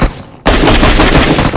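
Gunfire in a shooter video game sets in abruptly after a brief quiet moment, then carries on as a dense, loud barrage of shots without talk.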